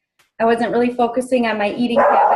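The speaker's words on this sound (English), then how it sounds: "Oh my gosh, I'm so sorry about my dog." A pet dog barks and yips loudly near the microphone, several quick bow-wow barks sliding into a whiny yelp, heard over someone talking.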